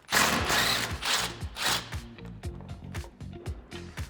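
A ratchet wrench with a 17mm socket on an extension loosens bolts under the bumper of a Toyota Tacoma, giving rapid clicking bursts in a steady rhythm, close and fairly loud, with no talking.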